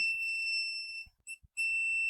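An Arduino buzzer sounds high electronic beeps in a timer-interrupt on-off pattern: a long tone, a short gap, a brief beep, another gap, then the tone resumes, clear and alone.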